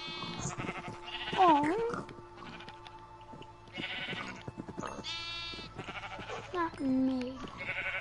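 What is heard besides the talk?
sheep bleating in a PS4 video game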